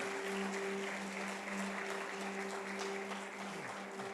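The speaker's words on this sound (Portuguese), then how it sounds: "Você pode aplaudir a Ele nessa noite?" A church congregation applauds steadily through a sanctuary sound system, a continuous wash of clapping with a sustained electronic hum underneath, moderately quiet and even throughout.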